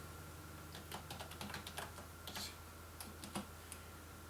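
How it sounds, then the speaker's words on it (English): Keys clack on a computer keyboard in short irregular bursts of taps, soft and close, against a steady background hum, with no talking. "I have to type correctly,"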